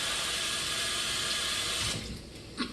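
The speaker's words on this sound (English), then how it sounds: "So I'm going to rinse my hands." Tap water runs steadily into a sink while hands are rinsed in a kitchen, a loud close hiss that tapers off at the end with a small splash.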